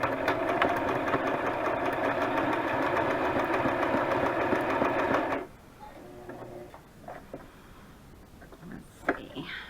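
A sewing machine stitches steadily at close range for about five seconds, then stops abruptly, leaving quiet room tone with a few faint handling clicks.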